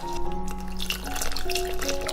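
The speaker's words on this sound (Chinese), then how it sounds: "用750毫升清水调开" Water is poured and swirled into water chestnut starch powder in a bowl, giving a steady close liquid trickle and stirring sound with faint background hum.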